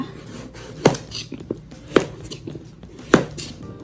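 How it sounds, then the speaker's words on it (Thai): A knife chops carrots diagonally on a cutting board for Japanese curry, three sharp thuds about a second apart with lighter taps between, close and clear without talk. "แครอท เราจะหั่นเฉียงๆนะคะ เพื่อให้มันซึมซับเข้าง่ายนะคะ"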